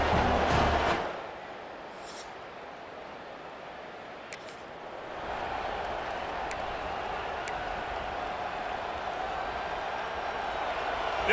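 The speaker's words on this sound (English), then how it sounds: "This crowd trying to make life miserable for this offense" Stadium crowd noise in EA Sports College Football 26 during a Penn State vs Iowa game, a steady moderate roar that dips briefly then swells again, with commentators talking over it.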